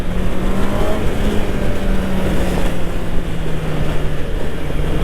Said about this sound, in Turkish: Dört silindirin sesi böyle insanı tahrik ediyor bayağı.